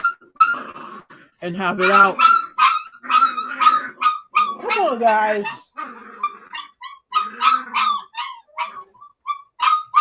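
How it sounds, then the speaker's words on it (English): Puppies yelp, whine and squeal in high-pitched bursts while a person speaks briefly over the commotion. "Okay, so now there's the one puppy screaming, and then the 2 puppies, ironically, that we're keeping are fighting"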